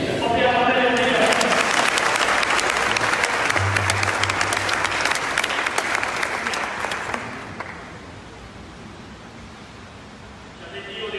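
A church congregation bursts into loud, sustained applause for the Lord, clapping densely for several seconds before fading into murmuring, with some voices mixed in.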